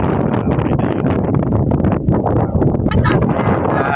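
Strong wind at a scenic viewpoint in Silang, Cavite, buffeting the microphone with loud, continuous low rumbling and gusty roar throughout.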